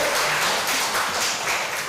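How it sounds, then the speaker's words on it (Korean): A congregation applauds during a Sunday worship service at a Korean church: steady dense clapping from many hands filling the hall, close and sustained throughout. "우리 박수 한번 드립니다."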